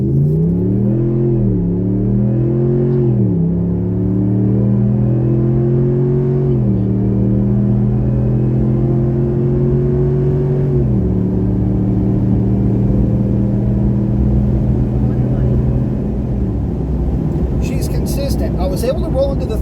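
A Ram 1500 pickup engine, fitted with a cold air intake during a test run, accelerates hard and loud, its drone climbing in pitch through several gear shifts for nearly twenty seconds.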